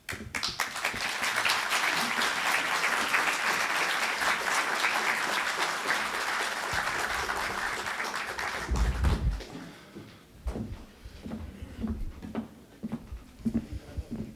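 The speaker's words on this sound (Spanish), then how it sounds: "un aplauso de nuevo, por favor" A crowd at a constitution forum applauds firmly after a presentation. The dense clapping holds for several seconds, then breaks into scattered claps and fades.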